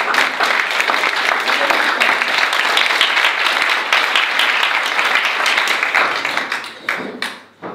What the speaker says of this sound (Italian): allora un applauso